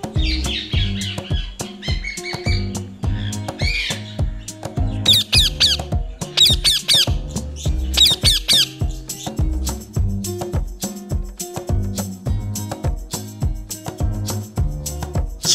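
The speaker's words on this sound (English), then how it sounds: "And the sound of the parrot is..." A parrot gives a burst of sharp, bright squawks in several short clusters over a steady, bouncy musical accompaniment, with quieter chirps early on.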